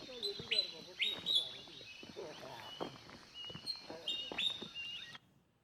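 Birds chirp and call on a farm, bright repeated high notes scattered through the clip over soft rustling, fairly faint and close, ending abruptly.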